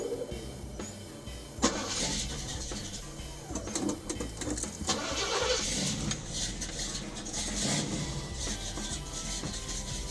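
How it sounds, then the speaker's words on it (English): A 1980 Chevrolet Camaro cold-starts in a garage after restoration: a sharp crank catch near two seconds, then a loud, rough, steady idle that holds close by for the rest of the stretch, with no talk. "Cold start Camaro."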